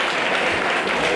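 Comedy show audience applauding at an Easter stand-up performance, a dense steady wash of clapping filling the whole moment without any talk.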